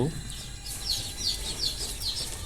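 A box of one-day-old chicks cheeping together in a rapid, high chorus of repeated peeps, close and continuous over a low background hum.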